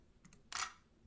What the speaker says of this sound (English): scroll down to sound effect, and then look up camera shutter